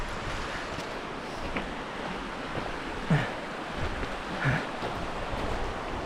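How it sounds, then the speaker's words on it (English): A river flowing somewhere ahead on an outdoor trek, a continuous rushing roar mixed with wind buffeting on the microphone, with a couple of faint knocks and no voices. "Oh, I see the river up ahead, we're good."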